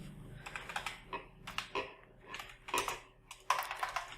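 A search being typed on a computer keyboard at a desktop, irregular clusters of clicky keystrokes with short gaps, close and moderately loud, over faint room hum and no speech.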